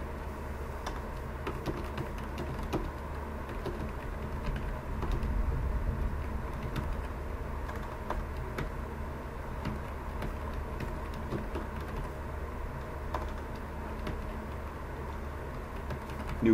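Keys clack steadily on a new computer keyboard, a quiet, continuous patter of typing close to the microphone with no voices.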